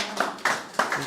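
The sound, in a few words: audience applause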